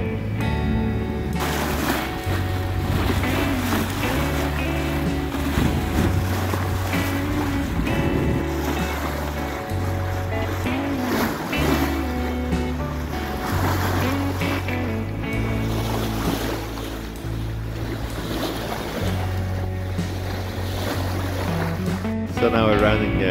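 A sailboat motor sailing on a calm, smooth sea near the Strait of Gibraltar: a steady low engine drone with water wash and wind, while a voice talks over it.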